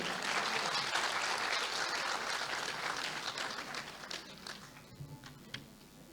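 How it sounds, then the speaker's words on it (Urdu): An audience at an awards ceremony applauds loudly and steadily, then the clapping thins out to a few scattered claps. "بسم اللہ، بھرپور تالیاں جی."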